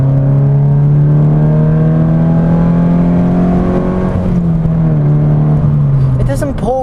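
A Subaru BRZ or Honda S2000 sports car pulls hard in third gear on a street, its engine droning loud and steady with a slowly rising pitch over several seconds. The note dips briefly near the end, and a voice talks underneath.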